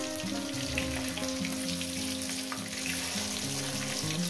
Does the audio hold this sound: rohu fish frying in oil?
yes